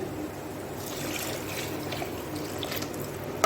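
Steady running water splashes and trickles into a pot of tomato rice at close range, a continuous gentle pour with no talking.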